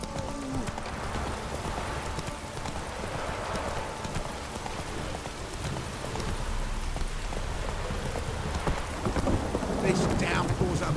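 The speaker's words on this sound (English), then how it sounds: "This downpour's a bastard," Heavy downpour in The Witcher 3 video game, rain hissing steadily over a horse's galloping hoofbeats and low thunder rumbles, with voices talking underneath.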